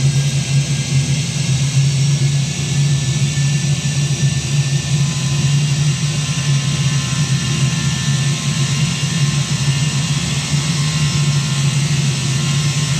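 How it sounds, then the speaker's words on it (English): A simulated aircraft engine in the Prepar3D flight simulator drones loud and unbroken, with a deep hum under a bright jet-like hiss holding steady throughout. "At the moment I'm flying Prepare 3D, so it's a basic graphic."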